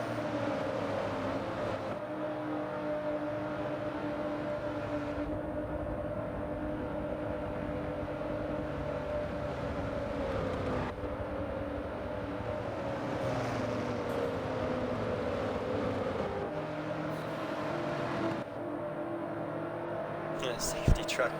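NASCAR Truck Series trucks racing at Watkins Glen, a sustained engine roar of the field rising and falling as trucks pass in waves, steady and fairly loud with a commentator speaking over it.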